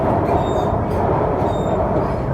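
Shanghai Metro Line 16 train running, heard from inside a carriage: a loud, continuous rumble and roar of wheels on track with faint higher squeals drifting over it, steady throughout, no speech.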